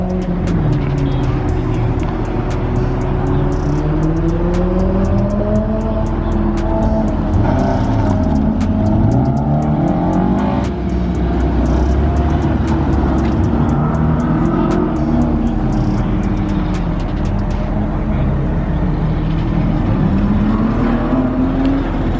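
A BMW M Series car on an autocross run, its engine loud and close, revving up and down in constant shifts as it accelerates and brakes through the course without a break.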